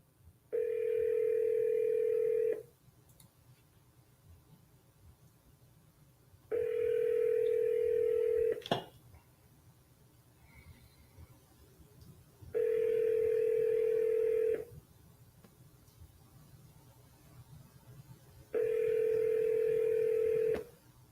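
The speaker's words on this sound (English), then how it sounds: "Your call has been forwarded to an automated voice." Four evenly spaced, loud two-second telephone ringback tones sound over quiet line noise before the call is forwarded to an automated voice. A brief click falls between the second and third tones.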